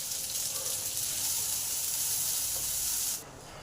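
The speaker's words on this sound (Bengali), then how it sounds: "পেঁয়াজগুলো সব আমার ভালোভাবে ভাজা হয়ে গেছে" Onions frying in a pan for a Bengali borboti bhorta, a steady loud hiss and sizzle that cuts off abruptly near the end.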